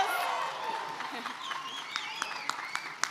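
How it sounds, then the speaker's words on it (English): At an annual pitch competition and awards event, a small audience gives faint, sparse applause with a few whoops, then it thins to a handful of scattered individual claps toward the end. "Round of applause."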